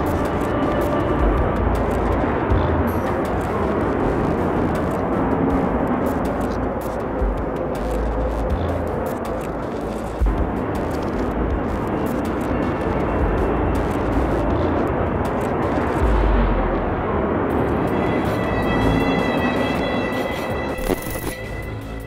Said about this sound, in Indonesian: Suara deru mesin pesawat tempur menjadi simfoni kekuatan dan keberanian.